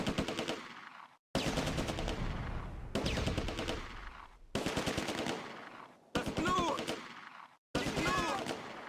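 Bursts of Bren light machine gun fire and other gunfire in the World War II strategy game Close Combat: A Bridge Too Far, fought around a ditch and tulip fields. Six rapid, sharp bursts are separated by short gaps, fairly close.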